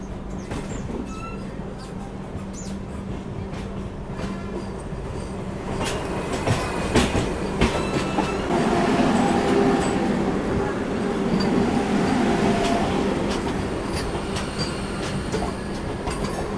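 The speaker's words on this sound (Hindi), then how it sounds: "ये सामने से वंदे भारत जो आ रही है ये है तिरुपति सिकंदराबाद वंदे भारत एक्सप्रेस।" The 16-coach Tirupati–Secunderabad Vande Bharat Express approaches in a steady rumble of wheels on rails that grows louder about halfway through, with faint squeals and clicks as someone talks over it.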